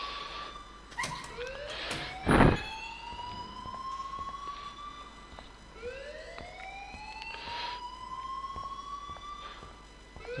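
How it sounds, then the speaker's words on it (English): An alarm in the Life is Strange video game wails with repeated rising siren-like sweeps, steady and moderately loud, with a brief harsh thump partway through. "please turn off that alarm since that's your job"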